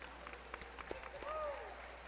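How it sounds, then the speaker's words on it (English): Faint, distant applause and crowd murmur at a Mardi Gras ball honoring past royalty, steady and low, with scattered voices and a brief whoop over it. "Big round of applause for all of our past royalty in attendance tonight."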